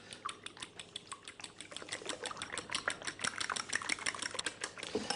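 Two forks beating eggs in a bowl for a microwave frittata, a quick run of light clicking taps that speeds up and grows louder toward the end, close and alone with no talk.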